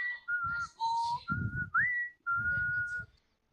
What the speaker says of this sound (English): That was pretty good whistling